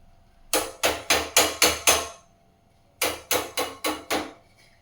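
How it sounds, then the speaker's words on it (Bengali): Fresh ginger rubbed on a grater for tea, heard as two sets of sharp, evenly paced scraping strokes, six then five, close and fairly loud with a short pause between sets. "আর একটু আদা নিয়ে নিয়েছি, আদাটা এখানে একটু ঘষে দেবো"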